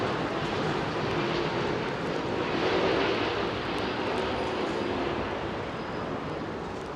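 A Biman Bangladesh airliner's engines spool up at Heathrow on a foggy day, a steady, moderately distant roar that swells slightly midway before easing off.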